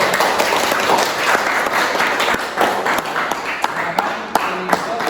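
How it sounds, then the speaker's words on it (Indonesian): A classroom breaks into applause for a presenting group, a full round of many hands clapping close by with a few crisp standout claps. A voice is faintly audible under it near the end. "Ya, tepuk tangan dulu untuk kelompok 2."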